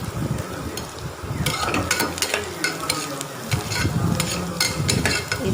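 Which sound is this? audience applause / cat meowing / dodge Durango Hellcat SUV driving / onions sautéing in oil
onions sautéing in oil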